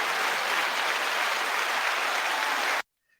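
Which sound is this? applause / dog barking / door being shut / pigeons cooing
applause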